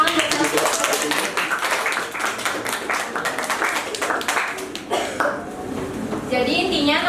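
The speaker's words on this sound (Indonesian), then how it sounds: "Tepuk tangan buat saya." A classroom of students claps together in a burst of applause during a microteaching lesson, dense overlapping claps that carry on for several seconds, with some voices mixed in.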